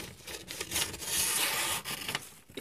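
Crinkling, rustling gift-wrapping paper handled close up, a steady crackly scrape that swells and fades over a couple of seconds with no one talking.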